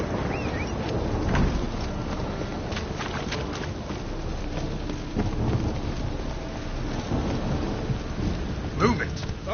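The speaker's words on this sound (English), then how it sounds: "I like rain." Steady rain pours in The Witcher 3 game world while low thunder rumbles beneath, with occasional louder crackles and drops in a continuous stormy wash.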